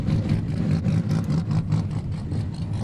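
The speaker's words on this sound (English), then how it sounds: "Turn that car off. I can't hear myself think." A drift car's engine runs at a motorsport championship round in New Zealand, a loud, close, steady rumbling drone with slight pulsing revs throughout and no voices.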